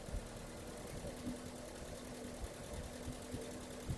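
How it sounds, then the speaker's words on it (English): Engine of a classic MG car running after a carburetor adjustment, a steady close idle hum with a low pulsing rhythm and slight rise in revs, no talk. "you'll hear the RPMs go up a little"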